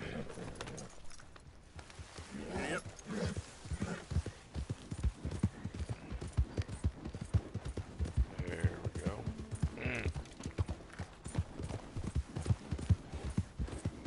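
In the video game Red Dead Redemption 2, steady, rhythmic horse hoofbeats clip-clop at a trotting pace throughout, loud and close, with a brief whinny and faint background sounds.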